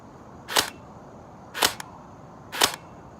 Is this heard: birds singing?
no